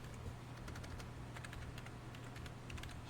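Fast typing on a computer keyboard, a steady stream of quick, crisp key clicks over a constant low hum, faint and continuous with no voices.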